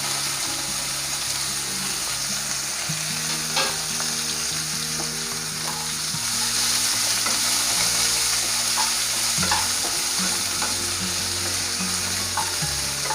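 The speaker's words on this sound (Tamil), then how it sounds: "இப்போ இது எல்லாத்தையும் நல்லா எண்ணெயில் வதக்குவோம்." Ridge gourd sautés in oil for a pickle, giving a constant dense sizzle with intermittent stirring clicks, close and loud, and a low steady hum running beneath it.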